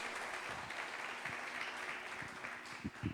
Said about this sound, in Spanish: Denle un aplauso si usted está de acuerdo.